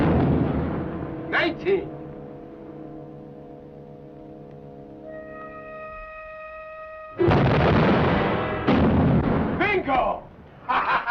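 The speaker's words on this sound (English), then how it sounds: "First torpedo should be hitting about now." A torpedo strike on a ship in a 1951 submarine war film: a sudden loud blast erupts after tense speech and a sustained tone, followed by rumbling and shouting voices.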